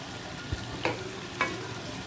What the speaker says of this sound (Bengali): হ্যাঁ, এই জন্য আমি লাউ কষাচ্ছি।